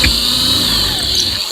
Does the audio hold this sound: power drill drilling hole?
yes